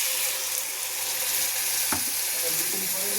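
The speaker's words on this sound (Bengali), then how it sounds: "এবারে আমি জলটা দিয়ে দিচ্ছি" Water tipped into a hot pan of frying dhoka (Bengali lentil cakes) for dalna sets off a steady, close hissing sizzle that runs throughout, with a faint clink partway through and no talk.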